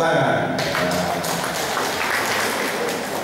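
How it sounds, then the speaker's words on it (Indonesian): An audience at an Indonesian cooperative meeting breaks into steady applause, a dense, continuous wash of many hands clapping that holds at an even level for about three seconds. "Tepuk tangan"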